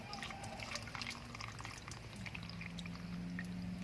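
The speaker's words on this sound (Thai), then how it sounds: "เราก็จะเติมน้ำ เติมน้ำให้เติมลงที่ขอบถาดนะครับ น้ำเปล่านะครับ" Plain water is poured steadily into the edge of a seedling tray for sprouting celery seeds, a continuous close trickle and splash lasting the whole moment.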